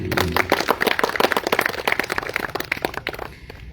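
An audience at a school farewell event in Surabaya gives a short, lively round of applause, dense hand-clapping that starts strong and tapers off after a few seconds.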